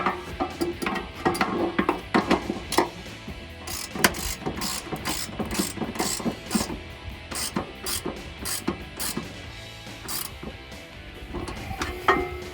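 A ratchet fitted with a 1/2 inch socket snugs up bolts on a 2019-2022 Chevrolet Silverado 1500 running board bracket, giving quick, close clicking runs in irregular bursts.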